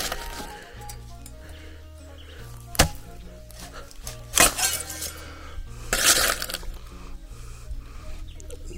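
A knife chops sharply into a yam head on a farm, splitting it down the center with a few loud woody cracks and splintering strikes spread across a low background hum.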